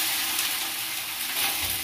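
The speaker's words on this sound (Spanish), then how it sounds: "Aquí el maíz pozolero limpio, lo voy a dorar un poquito aquí en la vaporera" Pozole hominy corn toasting in a steamer pot with chile poblano, giving a steady, close broadband sizzle with faint stirring and no talk.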